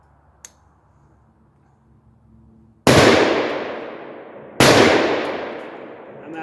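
Palmetto PA-10 Gen3 AR-10 rifle fired at a 200-yard range gives two loud, sharp cracks about two seconds apart, each followed by a long decaying echo, with quiet before the first shot.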